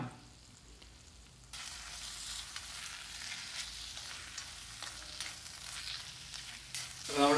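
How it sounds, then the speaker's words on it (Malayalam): Raw coconut oil drizzled over a thick jackfruit seed curry with cucumber and mango sets off a faint hiss that turns into a steadier sizzle partway through, ending in a brief louder scrape. "ഇനി അതിലേക്ക് നമുക്ക് വെളിച്ചെണ്ണ പച്ച വെളിച്ചെണ്ണ അത് തുളിക്കാം"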